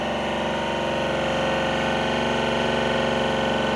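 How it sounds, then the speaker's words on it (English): An induction motor under VVVF speed control runs steadily at 1400 RPM, a dense continuous electrical whine and hum with a fine rapid pulsing and no change in level. "now the motor is rotating at a 1400 RPM"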